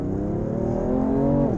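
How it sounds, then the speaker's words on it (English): A 2020 BMW M4 engine hums under load, then drops sharply in pitch as it downshifts, a brief, close, steady engine note with no talk. "The downshifts are bloody quick."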